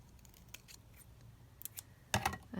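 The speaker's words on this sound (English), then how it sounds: "I just need to just trim this because that's not very straight" Scissors trim paper for an art journal page: a few faint snips early on, then a louder, close cluster of quick cuts near the end, with no talking.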